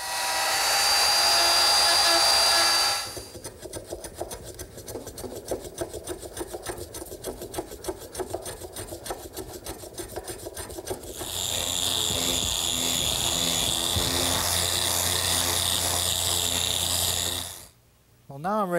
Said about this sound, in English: a 3/4 inch round over bit set up in my router makes this step a lot